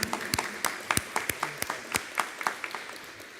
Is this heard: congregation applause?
yes